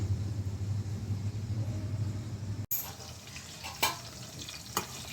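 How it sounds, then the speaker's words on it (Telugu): Stuffed bitter gourd frying in a pan, a low rumbling sizzle that cuts off abruptly, then a quieter crackle with a few light clicks as the pieces are turned. "ఇట్లా ఒక్కొక్క సైడు ఒక్కొక్కసారి తిప్పుకుంటూ ఉంటే త్వరగా వేగిపోతాయి నిదానంగా"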